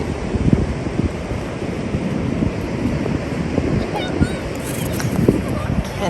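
Pacific Ocean surf and gusting wind at a beach in Ocean Shores, Washington, make a constant rough wash, with wind buffeting the microphone throughout and faint voices mixed in.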